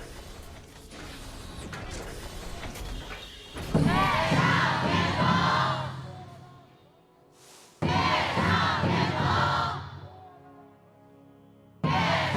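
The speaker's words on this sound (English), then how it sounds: "let's hear the crowd before we go into the action" A packed esports arena crowd at the KPL Grand Finals, the Honor of Kings tournament, roars in loud surging waves of cheering and chanting, swelling and fading in repeated bursts with quieter gaps between.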